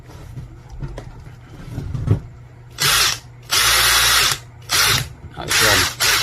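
A Makita cordless power drill running on a replacement 18650 battery pack whirs in several short bursts, starting and stopping about four times, loud and close after some quieter handling noise.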